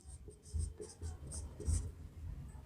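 Pen or chalk writing out a formula for the total surface area of a cylindrical tank during a Hindi class 9 maths lesson, a series of short scratchy strokes at close range with a steady quiet background.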